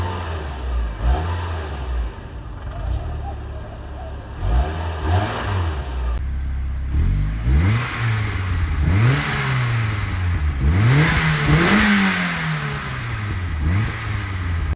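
A Mazda Miata fitted with an aftermarket Cobalt axle-back muffler revs repeatedly, its deep exhaust note climbing and falling in several rising blips up close, growing stronger in the second half.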